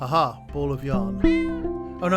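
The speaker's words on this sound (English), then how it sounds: "that was a cat." A cartoonish cat meow sounds from the hidden-object game Hidden Paws, a short tonal cry heard under and between a player's talk.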